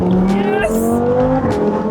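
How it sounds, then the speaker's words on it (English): A Lamborghini Huracan accelerates with a loud, continuous engine note that rises and shifts in pitch. It is heard close up with no talking. "there's nothing like a Lamborghini Huracan"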